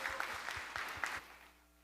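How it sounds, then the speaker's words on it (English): A conference audience claps briefly, the applause close and moderately loud for about a second before it fades into quiet room tone. "Give him a big round of applause for getting that"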